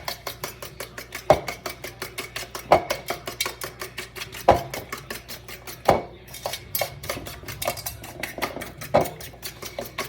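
Eggs and sugar being beaten by hand with a fork or whisk in a bowl, a steady run of quick metallic clicks and taps against the bowl, close and fairly soft, with a few louder knocks and no talking.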